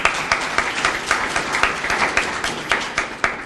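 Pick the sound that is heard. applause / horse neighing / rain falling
applause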